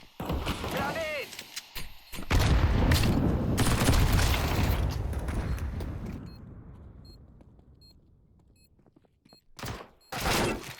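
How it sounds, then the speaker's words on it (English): A grenade blast in a first-person shooter, one heavy boom with a rumbling tail that fades over several seconds, preceded by sharp gunfire and clatter and followed by further close shots, with voices talking over the action. "Grenade."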